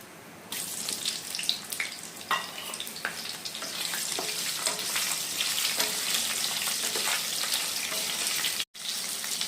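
Cut potatoes frying with ginger in a pan for a Bengali labra vegetable dish, giving a loud, continuous hissing sizzle after a quieter start, with scattered clicks and a brief dropout near the end.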